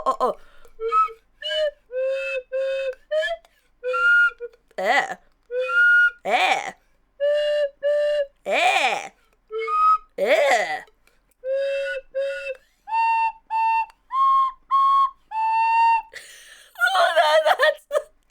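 Slide whistle plays Twinkle Twinkle Little Star as a string of wobbly, breathy held notes with sliding pitch, loud and close, phrase after phrase for the whole stretch.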